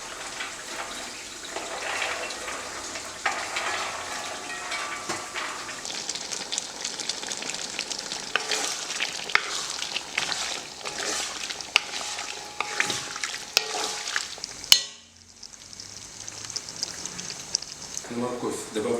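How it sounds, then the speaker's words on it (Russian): Carrots fry for plov, with a bright, bubbling sizzle and stirring that swells, then briefly drops away near the end before resuming. A voice is present at times. "Я засыпаю оставшуюся морковь."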